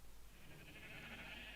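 A sheep bleating in the Minecraft video game, one drawn-out bleat sitting quietly within a busy, noisy game soundscape.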